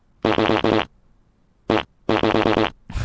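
A voice imitates a fart with a loud wet buzzing blat, then after a pause one short blast and a longer rattling one, all close and forceful.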